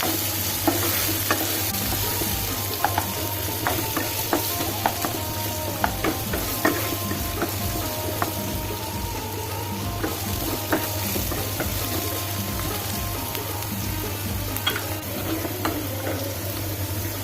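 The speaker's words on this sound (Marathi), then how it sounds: "आणि कढीपत्ता, हे चांगलं परतून घ्यायचं," Curry leaves are sautéed in a pan with onion, giving a continuous close sizzle broken by frequent rhythmic clicks and scrapes of a stirring spoon against the metal; there is no talk.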